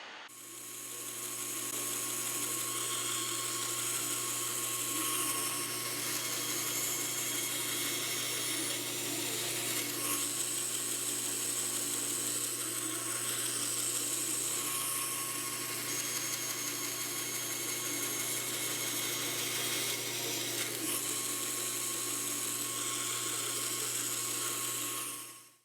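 Power tool cutting wood blanks for solid chevrons in dart banding, a steady, loud high-pitched whine that runs continuously for about 25 seconds with only slight variations in pitch and no talking.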